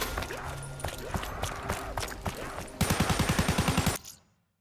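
Bootlegger weapon in Black Ops 3 Zombies firing a steady burst of close, loud gunshots over busy game noise, then a fast regular volley of about a dozen shots before cutting off abruptly.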